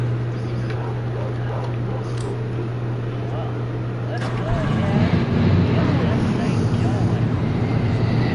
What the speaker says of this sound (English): As you can hear, the engines fire up on these cars as they are ready to rumble.